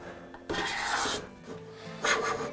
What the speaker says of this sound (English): So the card scraper, you can go either direction, but it's easier to go with the grain.